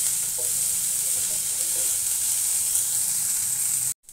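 Onion with green chilli and ginger frying in a pan, stirred now and then, making a continuous close sizzle with light scraping touches before cutting off abruptly near the end; no talking.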